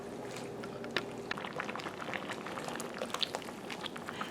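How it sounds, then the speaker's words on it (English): Kielbasa veggie tortellini soup with wilted spinach simmers in a pot, giving a steady close bubbling and gurgling with small pops throughout, no talk. "The tortellini has simmered long enough to get done."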